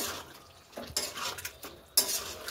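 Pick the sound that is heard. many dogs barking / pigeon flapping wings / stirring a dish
stirring a dish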